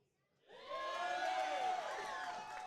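Wrestling crowd in Algona at a Badger Brawl match, a swelling roar of cheers and whoops that rises sharply and holds loud and steady, dense and close.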